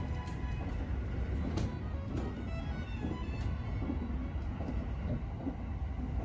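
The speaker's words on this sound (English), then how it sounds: "Several trains racing alongside them as we go along." Trains on Tokyo's Yamanote line running alongside, a continuous rumbling rail roar with faint clicking and rattling, steady and moderately distant throughout.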